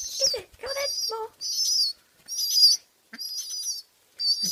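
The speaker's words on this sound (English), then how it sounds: "And she quacks like a duck." A pet pigeon calls in repeated harsh, raspy bursts, five or six close cries separated by short silences, with a few soft low notes between them.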